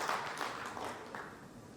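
An audience applauds at an HR-EHS conference in Vadodara, a steady, fairly soft wash of many hands clapping at a distance, with no voices over it.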